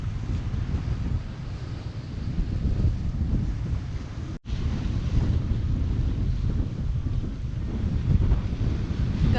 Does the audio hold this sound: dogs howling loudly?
no